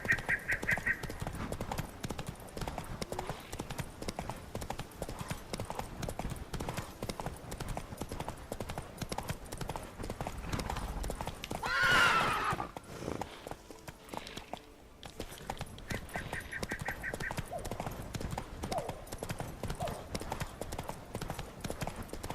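Roach, a horse in The Witcher 3, gallops with steady, fast clip-clop hoofbeats for the whole stretch, together with in-game ambience, a brief whinny and occasional faint speech in the background.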